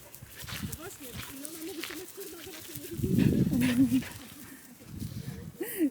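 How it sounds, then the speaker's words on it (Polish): Dogs whine and yip excitedly close by, with a louder burst of high-pitched whining in the middle, over background outdoor noise. "Piesy się cieszą."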